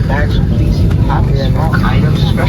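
Loud, steady cabin roar inside an older Airbus A320 in flight, a dense low rumble filling the space while a person talks over it.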